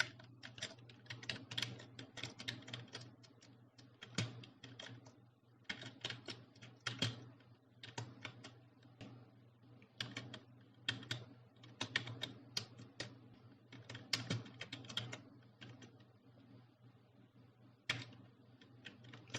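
A computer keyboard being typed on while writing HTML code, quiet close keystrokes in quick bursts separated by short pauses.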